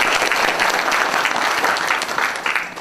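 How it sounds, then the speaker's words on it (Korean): Loud, sustained applause from an audience at a political book concert in Changwon, many hands clapping together in a dense, continuous wash that eases a little toward the end, with no speech over it. "박수 일단 부탁드리고요"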